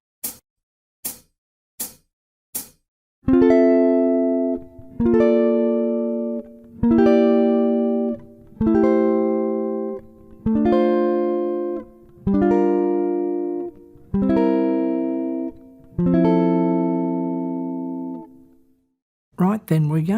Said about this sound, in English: Let's play through that chord progression using the specific chord voicings that you'll see on the screen.